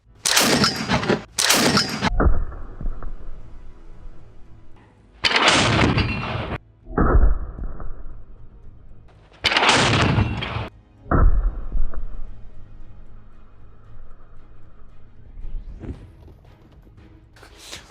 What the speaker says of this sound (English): will be firing today, and we'll try to break the sledgehammer, and we'll try to nail the sledgehammer to the anvil